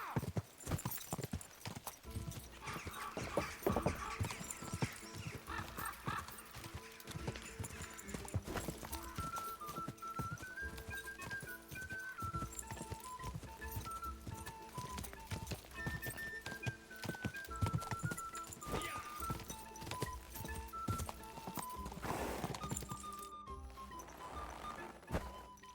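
Horse hooves galloping in a steady rapid clip-clop across open countryside in the medieval game Kingdom Come: Deliverance II, continuous and fairly close, with a brief whinny and no talking.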